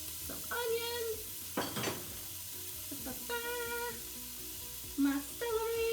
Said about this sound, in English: Now I've got my onions. Sizzle!